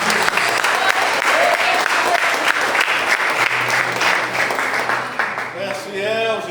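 A church congregation claps at a Friday prophetic service, with dense, loud applause throughout as voices speak and call out over it, and a brief singing or shouted tone near the end.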